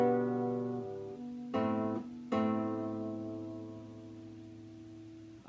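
Acoustic guitar plucking a song's intro, with several ringing plucked notes and two sharper attacks midway, each left to sustain and fade, quiet and solo.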